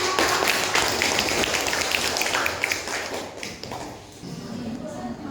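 Students in a classroom applaud, a steady patter of clapping that runs the whole span, with talk mixed underneath.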